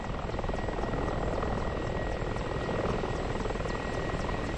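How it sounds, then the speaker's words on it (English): Aircraft flyby in the DCS flight simulator game, alongside a Spitfire, heard as a continuous rotor-like engine drone with a rhythmic beating texture, steady and moderately distant throughout. "Nice little approaching flyby."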